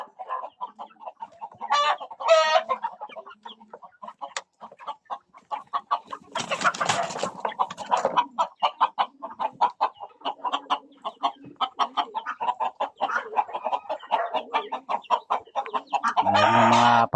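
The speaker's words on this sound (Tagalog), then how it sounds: "Ayan po yung mga alaga natin native na manok." Native chickens on a provincial farm cluck and crow continuously, several birds close by with overlapping calls and a loud crow near the end.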